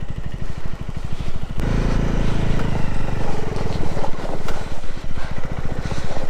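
A motorbike labours over a rocky off-road trail near Manang, its engine loud and close with a throbbing, uneven drone that surges and shifts as it climbs over stones, no talk.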